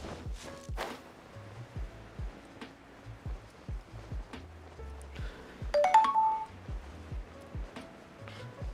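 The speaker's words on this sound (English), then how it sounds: "Phone is done charging." A phone sounds a short electronic chime when it finishes charging, rising clearly about two-thirds of the way through amid steady game footsteps and soft effects.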